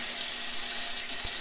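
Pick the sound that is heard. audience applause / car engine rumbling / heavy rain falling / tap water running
tap water running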